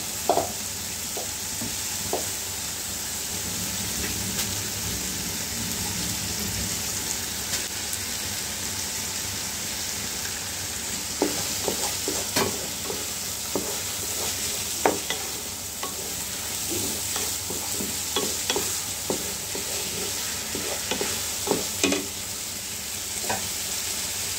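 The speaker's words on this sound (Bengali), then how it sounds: "ভেজে নিই, ভালো করে ভেজে নিই" Lentils fry steadily in a pan with a constant, soft sizzle, while a spoon stirs them in scattered, sharp scrapes and clicks that grow busier in the second half.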